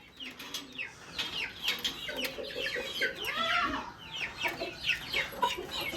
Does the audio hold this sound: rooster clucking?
yes